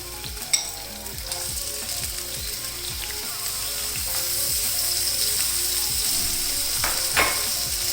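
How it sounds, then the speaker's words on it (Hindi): Cubed potato fries in hot oil with cumin for a spiced breakfast potato omelette. A loud, busy sizzle is broken by scraping, clicking stirs in the pan and swells slightly toward the end. "अब इसके अंदर मैं एक आलू ऐसे मैंने क्यूब्स में काट लिया, ये इसमें चला जाए।"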